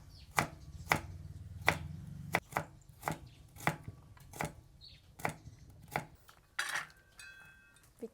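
A knife chopping ingredients on a cutting board for a deep-fried stuffed chicken dish, about a dozen distinct, irregularly spaced cuts, close and clear with no talking.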